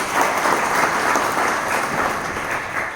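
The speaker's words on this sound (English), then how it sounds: "Please give them a big round of applause." An audience at a youth conference in San Diego applauds its volunteers, a dense, even wash of many hands clapping at once that holds steady throughout.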